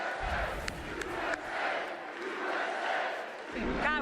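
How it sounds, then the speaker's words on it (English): A large crowd at a political rally cheering and chanting in loud rhythmic swells, sustained and dense throughout, with a voice cutting in near the end. "God, what a good crowd."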